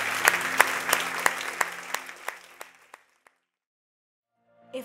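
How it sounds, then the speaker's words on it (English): A church congregation claps in a short, sparse burst of distinct hand claps that thins out and stops after about three seconds, leaving near silence before a brief sound at the end. "Give the Lord a big hand clap."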